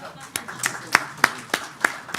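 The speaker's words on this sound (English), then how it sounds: "And now we need to applaud for him." A networking-event audience in Dubai claps for the day's announcer in slow, evenly spaced rhythmic claps, sharp and close, with a faint murmur behind.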